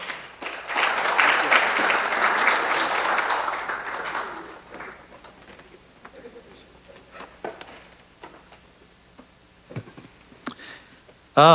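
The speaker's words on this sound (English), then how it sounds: "Let's give a round of applause to Dr. Denver Tolliver." An audience at a transportation summit breaks into loud, sustained applause for about four seconds, then it fades out into room quiet with scattered small clicks and a brief voice at the end.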